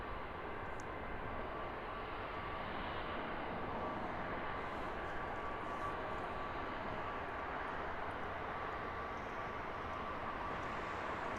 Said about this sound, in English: Egypt Air sending their little Neo in this morning.